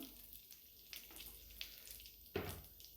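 Chopped cashews and almonds frying in ghee in a pan, a soft, steady sizzle with a few brief clinks and stirring scrapes, fairly quiet and close, with no voices.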